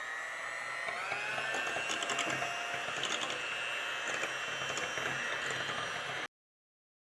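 An electric mixer whips fresh cream for a lemon cheesecake, a steady high whirring motor drone with rhythmic rattling bursts against the bowl, loud and close, then cutting off abruptly before the end.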